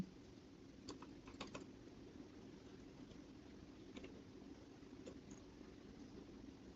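Light, sparse keystrokes of a file name typed on a computer keyboard, a few quick clicks followed by isolated taps, faint and close against a steady background hiss.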